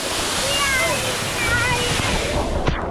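A steady, full roar of a large waterfall in Malshej Ghat fills the scene, broad and continuous, with faint voices mixed in beneath the rush.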